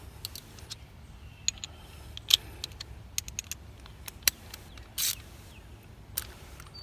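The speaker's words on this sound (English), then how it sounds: "We're going to use the extension that I brought earlier and the 10mm socket to remove this bolt." A 10mm socket on an extension works a side-mirror bolt loose on a Jeep JL, giving scattered light metallic clicks and rattles that come in short separate bursts, close up, over a quiet background.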